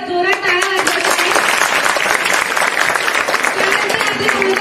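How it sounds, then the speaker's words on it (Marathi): An audience at a school Teachers' Day program claps in steady, dense applause that fills the hall from start to finish, with a voice heard briefly at the beginning. "जोरात टाळ्या वाजवत आहे."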